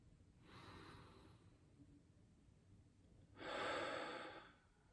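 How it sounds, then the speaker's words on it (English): Two slow, deep breaths drawn close to the microphone, the first softer and the second a louder, airy inhale that swells and then fades, with no talking over them. "Will you take a breath with me?"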